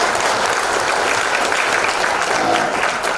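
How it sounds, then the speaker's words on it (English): Audience applause at a university international conference keynote, a dense steady wash of many hands clapping continuously and loudly with no voices over it. "Can we give a big clap, a big applause?"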